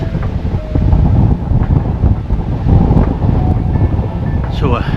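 Wind buffeting a microphone on a morning walk into a headwind near Wycoller Hall, a steady loud rumbling roar that surges and fades throughout.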